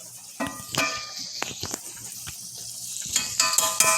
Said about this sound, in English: So we could add a little bit of extra virgin olive oil. As we're cooking this pancetta.